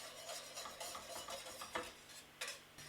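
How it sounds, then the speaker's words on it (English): Butter whisked into a pan sauce for beef, a brisk, close scraping and swishing of a whisk against the pan with a faint sizzle beneath, steady rhythmic strokes and no voices. "Whisk that into the sauce."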